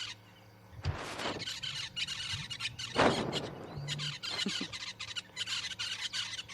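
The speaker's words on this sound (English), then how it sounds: "And there's the buffalo weavers, red buffalo weavers. Very, very active. Very noisy." Harsh, squealing calls of red buffalo weavers burst out repeatedly over a busy chattering background, loud and close, with several birds calling at once, at Ngala Private Game Reserve.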